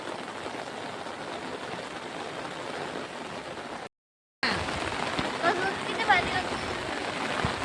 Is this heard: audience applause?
no